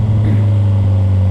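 A 2010 Kawasaki Ninja ZX-14R motorcycle runs close and loud with a steady low engine drone, its pitch holding nearly constant through a short stretch of riding.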